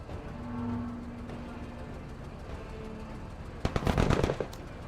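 Rapid automatic gunfire from a magazine dump at a giant bug in a shooter video game, a dense burst of shots near the end after quieter game ambience.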